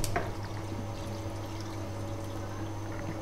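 Water, 1.5 litres, poured into a cooking pot for a tamarind and plum sharbat: a steady, continuous pouring splash close by, starting with a brief sharp burst, with a faint hum in the background.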